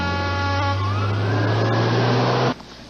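A fire engine siren wails as the truck responds to a call, a loud, close rising tone over engine rumble that cuts off sharply after about two and a half seconds.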